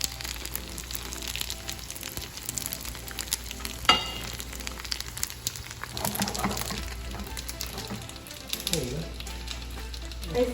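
A pasta frittata fries and crisps in a pan with a continuous close sizzle and scattered spatters and scrapes, while faint voices talk in the background.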